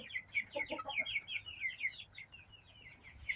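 Two cockerels cluck and call in a coop, a run of short bird notes over the first two seconds, then quieter scattered clucks at moderate distance with a low steady background hum.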